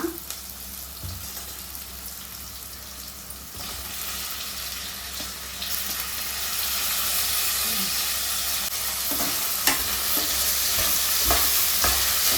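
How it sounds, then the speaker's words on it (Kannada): Chopped tomatoes fry and get stirred in a hot pan for a village-style chicken sambar, with a steady broadband sizzle and hiss and scraping stirs that grow louder through the second half, with no talk. "So tomato fry ಆಗ್ತಿರಲಿ."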